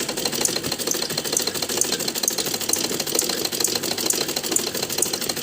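A sewing machine stitches a two-year-old girl's lined frock, running in a fast, steady mechanical chatter throughout, fairly close and with no talking.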